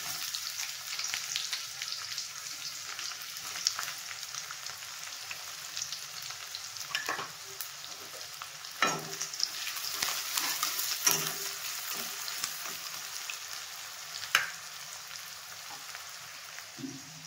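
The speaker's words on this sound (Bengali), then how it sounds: "তেল গরম হয়ে গেছে, আমি কুচনো পেঁয়াজটা দিয়ে দিচ্ছি।" Chopped onion hits hot oil and sizzles steadily for a long stretch, a dense crackling hiss with occasional louder pops and stirring scrapes, close and alone while cooking a mutton paya dish.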